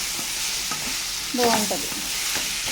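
Bitter gourd pieces frying with turmeric in a pan, a steady sizzle with a brief stirring clatter in the middle; a voice speaks briefly.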